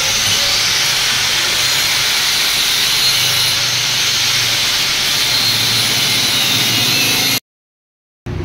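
Iron is cut, giving a loud, continuous, hissing roar that holds steady for several seconds before cutting out abruptly into silence, then briefly resuming at the very end.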